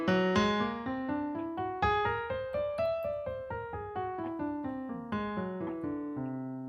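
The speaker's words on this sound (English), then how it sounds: "there's one type of scale called a whole tone scale that uses only whole tone steps." A whole tone scale played note by note on a keyboard, rising then falling in steady, evenly spaced steps, with clear ringing tones and no talking.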